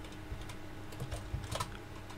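Fast, light clicking of keys on a computer keyboard during a Raspberry Pi mouse-interface setup, heard up close and fairly quietly, with a few louder keystrokes near the end.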